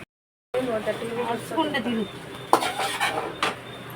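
Yippee noodles tossed with masala in a pan, a spatula scraping and clinking against the metal with a steady stirring rhythm, close and moderately loud, mostly alone with a couple of sharper knocks.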